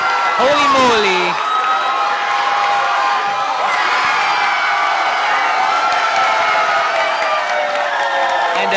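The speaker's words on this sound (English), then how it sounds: "And the crowd goes wild." A large crowd at a women's open bouldering final in the Philippines erupts in loud, sustained cheering, with whoops and shouts rising over steady applause, and a voice talks briefly near the start.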